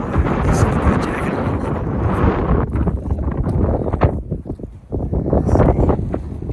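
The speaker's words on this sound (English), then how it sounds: "it's kind of windy" Strong wind buffets a microphone on an exposed mountain summit, a loud continuous roar with gusty surges that ease slightly midway before building again.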